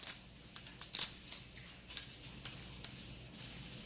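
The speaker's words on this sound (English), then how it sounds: "Our inspectors need to inspect every knife, spoon, and fork" Knives, spoons and forks handled in a kitchen drawer of a vacation rental: a quiet series of light metallic clinks and taps spread irregularly, some sharper than others, with no talk.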